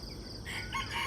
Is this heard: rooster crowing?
yes